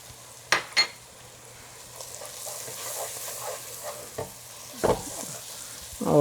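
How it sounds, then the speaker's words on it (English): Turmeric is stirred into spinach and eggs sizzling in a pan, giving a low steady frying hiss with a few sharp utensil clicks and scrapes against the pan, close and without talk. "just put our turmeric in it"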